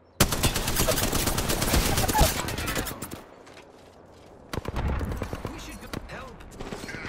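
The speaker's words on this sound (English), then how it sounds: "I am taking fire" Rapid automatic gunfire in Apex Legends, a dense sustained burst followed by a pause and then a second shorter, more scattered volley, with a voice talking under the shooting.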